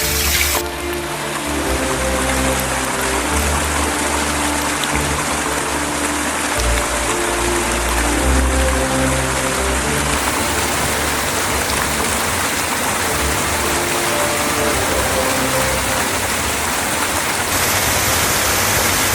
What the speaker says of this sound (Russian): А вот еще один маленький водопадик